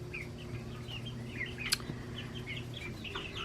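Backyard chickens clucking inside an 8 by 16 coop in Tennessee, soft scattered clucks and chirps over a steady low hum, with one brief sharper call midway.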